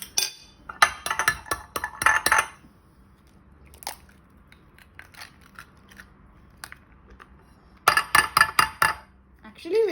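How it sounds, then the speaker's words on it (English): Eggs being cracked into a bowl for French toast: two clusters of sharp clicks and cracks against the bowl at the start and again near the end, with sparse light taps and knocks in the quiet between. "take 3 eggs and put it in the bowl"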